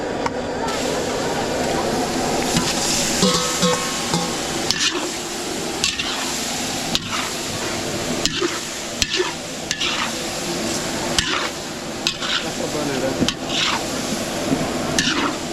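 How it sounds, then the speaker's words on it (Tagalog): Beef sautéed with garlic for kare-kare sizzles loudly in a pan, with repeated scraping and clanking of a spatula stirring throughout and a faint background murmur, close to the pan. "kikisa na natin yung baka natin para sa ating kare-kare"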